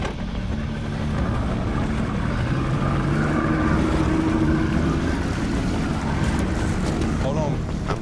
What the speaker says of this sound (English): That engine running, bro, I think sometimes help keep that shark no away doubt.